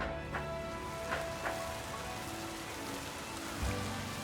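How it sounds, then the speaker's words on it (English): Steady rain hiss in the Pokemon Legends ZA video game, an even wash of falling rain with a few brief soft accents, continuous and without speech. "I hear rain, but it's not raining yet."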